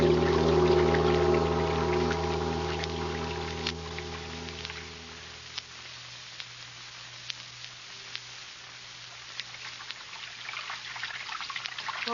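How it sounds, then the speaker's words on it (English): Running water as a radio drama sound effect, a steady liquid pour with trickling texture fading under a sustained musical drone before thin dribbling drips remain, no voice present. "Running water."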